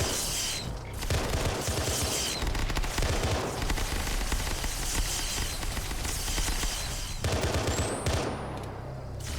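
Sustained automatic gunfire and rapid volleys from a large squad battle in the Arma 3 OPTRE Halo mod, fighting Flood enemies, dense and loud throughout with a few brief lulls and no talk.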